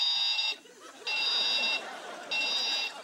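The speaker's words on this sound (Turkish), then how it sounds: "Başka saatlerde alarm olarak kullanabiliyorsunuz." A clock that also sounds the call to prayer gives a shrill, high electronic alarm beep in three long pulses separated by short gaps, with faint voices in the background.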